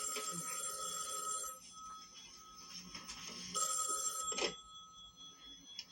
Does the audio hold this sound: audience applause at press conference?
no